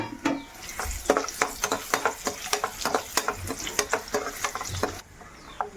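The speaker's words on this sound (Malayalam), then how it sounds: "നട്ട്സ് ഇവിടെ മൂത്ത് വരുന്നുണ്ട് ഇനി നമുക്ക് നമ്മുടെ മുന്തിരിയും കൂടെ ഇട്ട് കൊടുക്കാവേ" Cashews and raisins frying in ghee in a pan for Onam payasam, with steady sizzling and repeated sharp scrapes of a spoon stirring in an irregular rhythm, close and fairly loud, no talking.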